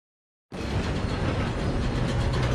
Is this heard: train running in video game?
yes